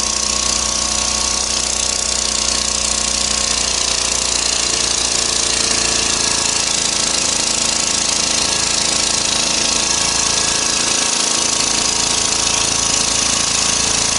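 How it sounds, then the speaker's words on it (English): A Honda E40 generator runs steadily just after being switched on. Its small engine gives a loud, constant, close mechanical drone with a buzzing, rattling texture that holds the whole way through. "Honda E40 Generator."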